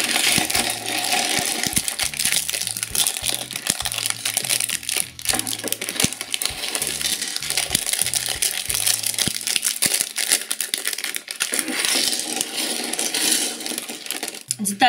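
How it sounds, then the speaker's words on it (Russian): Plastic bags of LEGO Technic parts being opened, a crinkling rustle with small plastic pieces clattering and rattling throughout, close and busy. "давайте откроем наши пакетики."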